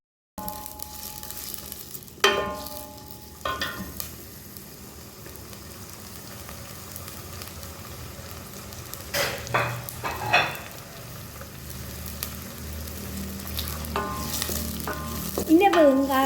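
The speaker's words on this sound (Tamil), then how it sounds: "கருவேப்பிலை, ரம்பையில் ஏலம், கருவா, கிராம்பு இது எல்லாத்தையுமே போட்டு வதங்க விடுவோம்" Curry leaves, cardamom, cinnamon and cloves sauté in hot oil with a steady close sizzle, broken by scraping stirs and occasional louder crackles, and a brief voice near the end.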